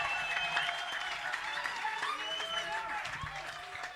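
A church congregation applauding and cheering during a lively worship service, dense clapping under voices from the crowd, fairly loud and sustained throughout.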